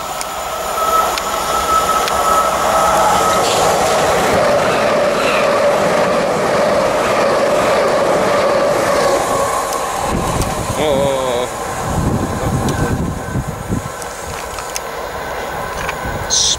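A Gatwick Express train speeds through Balcombe station, a loud, steady rush of wheels and motor noise with clickety-clack rail beats that fades near the end, with voices talking briefly.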